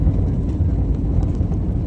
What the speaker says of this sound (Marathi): विमान वेगाने धावते आणि आकाशात झेपावते.